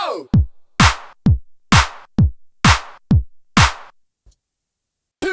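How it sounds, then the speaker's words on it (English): A programmed drum beat trades deep thudding kicks with sharp claps in a steady even rhythm, about eight hits and then silence, up front and dry with no talk. "kick, kick, kick, and then every other will be a clap, clap, clap"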